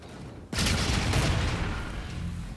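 A gun in Infinite Warfare opens up with rapid, sustained fire. The dense, continuous burst starts abruptly after a short quiet moment and holds loud until the end.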